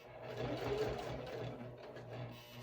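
A domestic sewing machine stitches a seam on a handmade wallet, a steady close mechanical whir with rapid needle rhythm running continuously, rising slightly in the middle.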